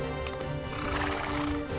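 A horse whinnies loudly over the steady clip-clop of hooves, close and brief.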